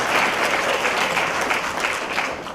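Steady clapping from an audience at a 2015 federal candidates' debate in Terrace, a dense even wash of applause that holds at constant loudness throughout.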